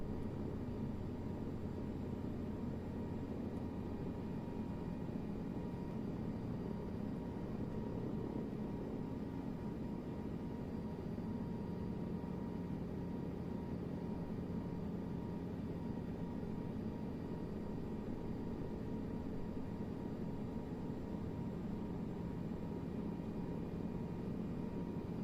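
A helicopter hovering at low altitude during flight training, a steady loud rotor and engine roar that stays even throughout with no voices.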